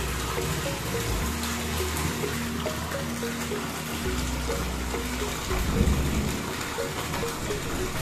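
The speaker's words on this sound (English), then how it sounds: "Rain is coming little bit now. It is not a heavy rain" Light rain falls steadily outdoors near a rainwater harvesting tank, a soft continuous hiss with faint patter and a low hum underneath.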